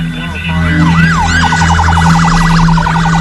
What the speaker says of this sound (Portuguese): Eu estava numa ambulância.